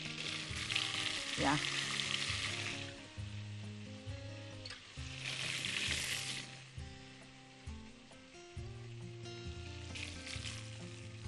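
Sliced zucchini frying in a mix of oil and butter in a pan, a steady broadband sizzle that swells and fades in bursts, with low tonal background sounds beneath and a brief spoken word.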